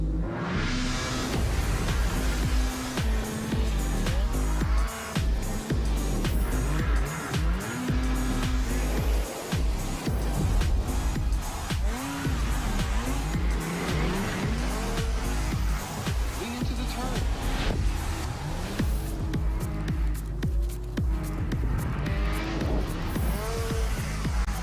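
Rotax racing karts fire up and pull away, a dense, continuous engine roar with rising and falling revs and revving bursts, loud and close throughout, with faint voices mixed in.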